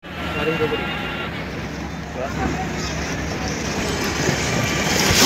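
Speedboat ride on the sea at Digha, with a constant rushing roar of wind and water growing louder toward the end, heard up close.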